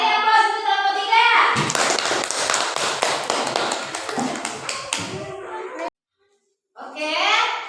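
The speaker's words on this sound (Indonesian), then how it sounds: "beri aplaus untuk kelompok 3" A classroom of children claps for a student group after its presentation, a dense burst of many small hands lasting several seconds, with children's voices before and after and a brief silence near the end.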